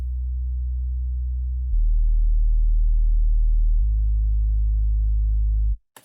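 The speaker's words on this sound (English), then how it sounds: "So a very nice, super low signal in order to support our main bass." Deep, pure sub-bass from a TAL Bassline soft bass patch run through a morph filter with only the lowest frequencies left, holding steady sustained notes that shift pitch twice before cutting off into a brief click.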